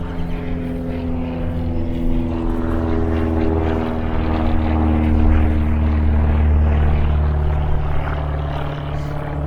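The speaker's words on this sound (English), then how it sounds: "Man, they have a lot of planes taking off." Steady, loud propeller engine drone with a deep throbbing hum and layered tonal whine, swelling slightly as aircraft power up and take off nearby, heard from a park in Mesa, Arizona.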